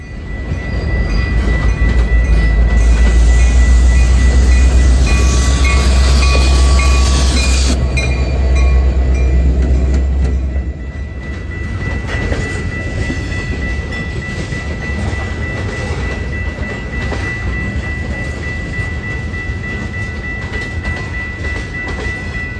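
A CPKC freight train led by a single KCS SD70MAC diesel locomotive passes close by with a loud, heavy engine rumble that eases after several seconds into a continuous wash of rolling wheels and rail noise.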